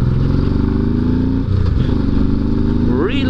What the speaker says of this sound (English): it's very interesting to ride a motorcycle on a New Year's Day